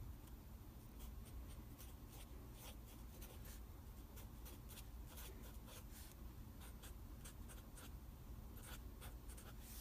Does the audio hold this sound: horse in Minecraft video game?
no